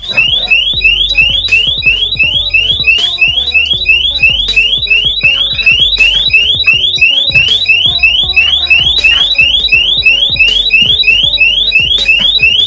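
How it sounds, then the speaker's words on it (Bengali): A burglar alarm rings loudly and steadily throughout, its rapid repeating electronic beeps pulsing in a fast rhythm over a busy background in a home caught on security camera. "কিন্তু তখনই সজোরে অ্যালার্ম বাজতে শুরু করে"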